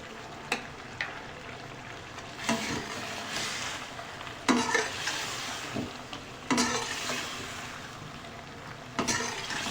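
Cumin seeds and paprika sizzle steadily in a pan while a utensil stirs and scrapes, the strokes coming in periodic louder bursts roughly every two seconds, with no talking.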